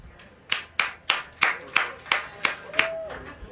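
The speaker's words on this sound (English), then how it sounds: "Clap your hands." A state fair crowd claps hands in about eight distinct, evenly spaced bursts, each sharp and close, with a brief tonal sound near the end.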